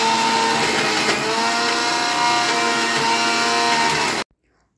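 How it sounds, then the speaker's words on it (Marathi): A mixer grinder blends frozen mangoes into pulp, a loud continuous whirring roar that holds steady for about four seconds and then cuts off abruptly into silence. "फ्रीजरमध्ये ठेवलेला मँगोज मी आता बाहेर काढलेला आहे आणि ते मिक्सरमध्ये बारीक करून घ्यायचं आहे"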